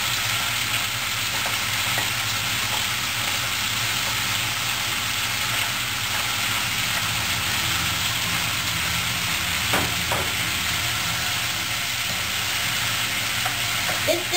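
Spareribs stir-fried with vegetables in a wok produce a loud, constant hiss and sizzle, with a few sharp clanks of tossing and stirring around the middle.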